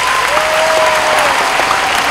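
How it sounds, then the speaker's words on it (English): A crowd of students at a middle school fitness center ribbon cutting applauds steadily, a dense continuous round of clapping filling the space without pause. "So I want you to give a big round of applause to all of them."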